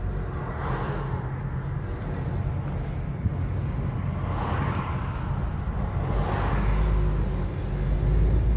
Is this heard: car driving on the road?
yes